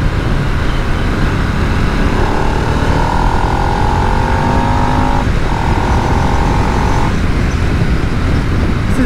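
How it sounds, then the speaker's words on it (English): A 2022 Harley-Davidson Nightster 975 engine rumbles loudly and steadily, with a rising and falling drone through the middle that suggests a rev, close by and with no talk. "an engine that supposedly, I think it might be revved actually"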